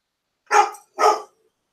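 Two loud, close dog barks in quick succession separated by a short pause, each sharp and full, set against an otherwise silent background.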